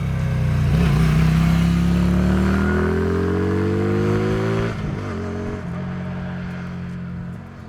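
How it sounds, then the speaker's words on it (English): A loud Benda Napoleon Bob 250 motorcycle engine revs up with a rising pitch, then drops back to a rough, throbbing idle. "As soon as they rev the engine, the bike growls and demands attention"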